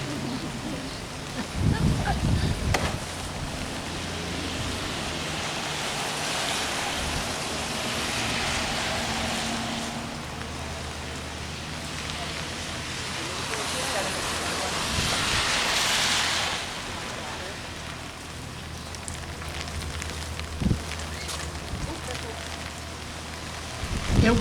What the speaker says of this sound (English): It wouldn't be Valley Daze without a little bit of rain.